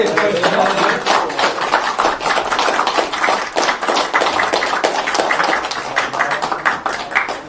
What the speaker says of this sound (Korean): 네 박수 한번 치시고.